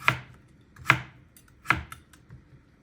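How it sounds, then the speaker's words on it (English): Leftover pieces for chicken rice are chopped with a knife on a board, making three crisp, evenly spaced thuds close by, with no talking. "what I do with what I have left is I just kind of chop them up little"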